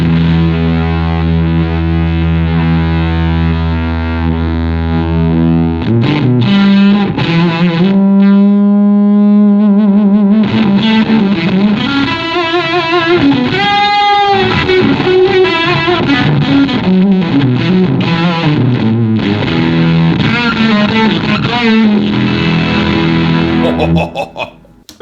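Electric guitar played through a fuzz tone on an IK Multimedia ToneX ONE pedal, sustained distorted chords and single-note lines that ring loud and thick with echo for about twenty-five seconds, with no talking over it.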